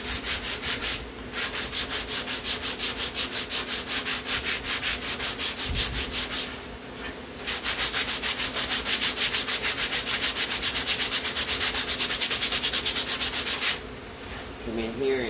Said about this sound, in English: I'm just going to use my little block here. We're going to start sanding.